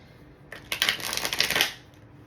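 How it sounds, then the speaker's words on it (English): A deck of tarot cards is shuffled close up, one quick riffle of crisp fluttering card slaps lasting about a second, with quiet before and after and no talking. "I just gotta shuffle only once in both directions."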